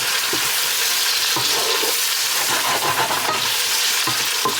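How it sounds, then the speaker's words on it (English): Onion and garlic sweat in a hot pan, giving a dense, loud, steady sizzle broken by occasional scraping stirs, with no talking. "you want to sweat down the onion and cook it with the garlic and just bring all the flavors out"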